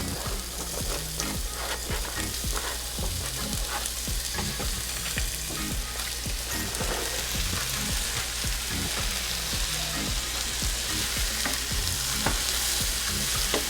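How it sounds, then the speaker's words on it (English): Onions and vegetables stir-frying in a hot pan, a loud continuous sizzle broken by frequent scraping, clattering stirs throughout, close and with no talking. "In we go with our veggies. We're going to start with our onions."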